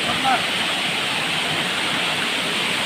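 A waterfall in Goa roars with a steady, dense rush of falling water, loud and close, while voices talk faintly beneath it.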